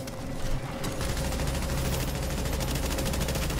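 Rapid enemy gunfire in the video game The Division during a level 30 daily challenge at the WarrenGate Power Plant, a steady dense rattle of automatic shots that runs loud and continuous throughout with no talk.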